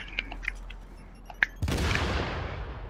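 A mine going off in the video game The Division, a single sudden blast that cuts in partway through and rumbles on after a few faint clicks and ticks of game sound.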